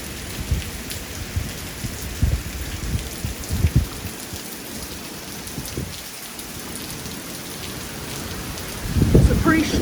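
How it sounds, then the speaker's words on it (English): Steady rain and roaring wind gusts from Hurricane Delta as it makes landfall in Louisiana, with broadband noise throughout and brief low bursts of buffeting that swell louder near the end. "It's a pretty strong gust."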